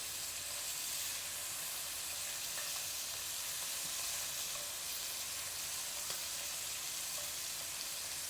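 Scallops searing in a hot pan give a steady, soft hiss of sizzling oil, even and continuous, with a few faint pops and no voices.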